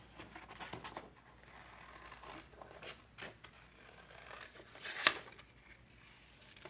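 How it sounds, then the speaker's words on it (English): Scissors snip and crunch through paper in a few quiet, irregular cuts, with light rustling between them and one sharper snip near the end. "next you're going to take your scissors and you're going to cut your circle out."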